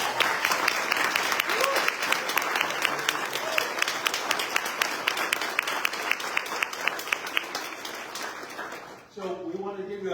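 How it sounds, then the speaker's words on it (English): A large audience at a peace gathering general assembly applauds loudly and steadily for about nine seconds, and then a voice begins speaking as the clapping cuts off. "let's hear a big round of applause"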